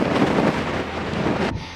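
Strong outback wind gusts at Mount Augustus in Western Australia, roaring steadily into the microphone as loud broadband buffeting that cuts off abruptly near the end.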